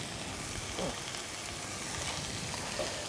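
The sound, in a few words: white stock added to sweated vegetables sizzling in pan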